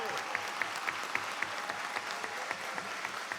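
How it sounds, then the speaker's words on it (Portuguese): Applause at a solemn legislative session for Black Consciousness Month, fairly quiet, with a few sharper nearby claps standing out in a regular rhythm over softer background clapping. "Vossa Majestade Renato Freitas merece uma salva de palmas."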